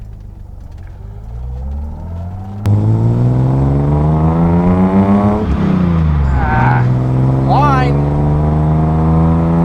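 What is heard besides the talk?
restomod Datsun 280z driving and accelerating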